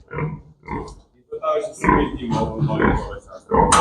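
Pigs grunt and oink in short bursts on a pig farm with young piglets, close by, while people talk over them.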